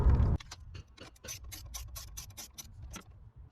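A ratchet turns the negative terminal nut on the battery of a 2022–2023 GMC Canyon AT4, giving a close run of quick, even clicks after a brief louder thump at the start.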